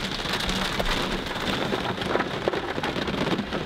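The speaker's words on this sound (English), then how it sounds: "I essentially can't have a chat with Floris without it raining on us" A heavy outdoor downpour gives a loud, steady wash of rain with dense pattering drops and occasional sharper splashes close by. No one speaks.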